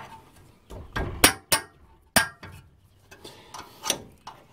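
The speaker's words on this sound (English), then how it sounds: "let's get the caliper taken off" Metal clinks and knocks ring out while the brake caliper comes off a Ford Courier, about a dozen sharp separate taps and clanks at irregular intervals, close and fairly loud, with no one talking.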